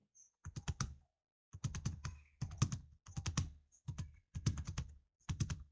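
Computer keyboard keys typed in quick bursts while entering a range name into the Excel formula bar, six short clusters of crisp clicks separated by brief pauses, close and fairly quiet.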